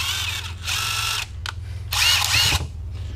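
A Craftsman Max 20V cordless impact driver runs freely in three close, loud bursts, a long whine, a brief blip, then another sustained run with rising pitch, with no fastener being driven.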